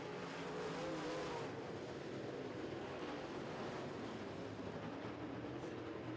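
Late model race cars roar around a dirt track at a raceway, a dense continuous engine wash heard at a distance with no talk over it.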